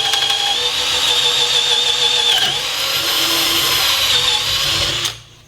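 A Hilti SF 10W-A18 cordless four-speed drill runs in second gear, a loud close whine with a steady high motor tone that shifts pitch slightly midway as it cuts, then cuts off abruptly near the end.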